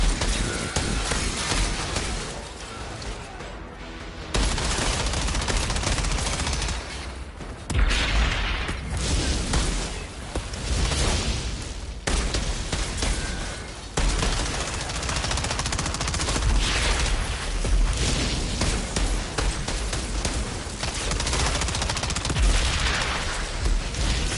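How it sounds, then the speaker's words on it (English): Sustained gunfire from a minigun in the video game Outriders, dense automatic bursts with booming impacts running almost continuously, with a couple of brief lulls. "I think this is the destroyer valve, the machine gun, the minigun"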